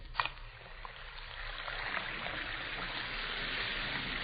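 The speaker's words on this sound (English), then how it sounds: "You hear that fizzing, sparkling sound?" Two Alka-Seltzer tablets dropped into a glass of water fizz with a steady, close hiss of tiny popping bubbles, after a brief splash at the start.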